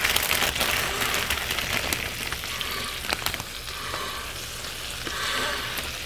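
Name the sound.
spinach sizzling in melted butter in a pan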